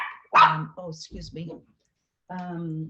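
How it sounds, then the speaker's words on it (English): Puppies barking at home, a few short yappy barks close by, mixed in with speech. "Puppies."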